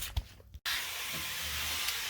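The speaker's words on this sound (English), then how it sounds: "So pretty much just spray down the last coat of black and should be good to go." Aerosol spray painting the final coat of black on parts for a Pontiac Fiero, a steady close hiss starting after a short pause and running on without talk.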